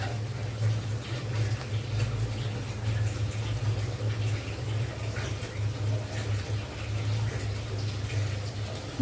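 Water running and splashing steadily as a mixer grinder jar is rinsed out while jackfruit curry is being cooked, a continuous close wash with a low hum underneath.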